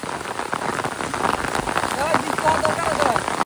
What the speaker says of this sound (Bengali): পুকুর ছেড়েছি আর বৃষ্টি শুরু হয়েছে